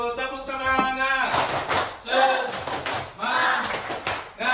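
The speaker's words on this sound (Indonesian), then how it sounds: "kita tepuk semangat dulu" A classroom doing a rhythmic group clapping routine during an Islamic religious education lesson, with bursts of clapping in a patterned beat alternating with children's chanting voices.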